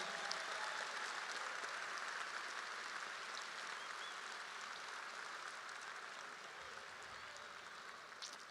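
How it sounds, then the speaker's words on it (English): Applause from the crowd at a Kirkwood High School 2022 graduation ceremony, a soft, distant, sustained patter of many hands holding steady for several seconds with no talking. "How about a round of applause for Luke and Link?"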